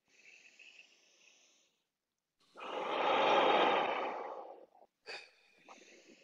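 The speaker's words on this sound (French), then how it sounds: "On inspire et on expire." Deep, forceful breath drawn in and pushed out during a hip mobility and core strengthening workout for golf, a single long loud exhale swelling for about two seconds between quieter breaths, close to the mic.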